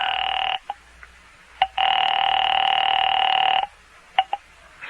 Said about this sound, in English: I made another call there in the phone booth.